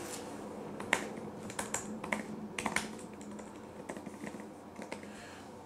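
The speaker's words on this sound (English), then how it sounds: "It's a butterfly keyboard, so there's not much of a depth when you push the buttons down." Keys tapped on a MacBook Pro butterfly keyboard, giving scattered shallow clicks in irregular bursts, close up and fairly quiet with no talking.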